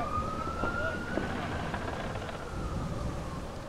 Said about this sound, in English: Sometimes the sirens are a little loud where I am.